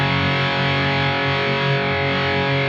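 An electric guitar plays through an Origin RD Compact Hot Rod overdrive pedal with the gain turned up, sustaining a thick, distorted chord tone that rings steadily and loud, with no voice over it.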